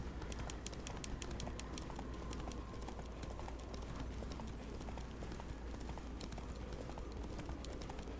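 Roach, Geralt's horse in The Witcher, gallops with rapid, steady clip-clopping hoofbeats that run continuously over a dense bed of in-game ambience.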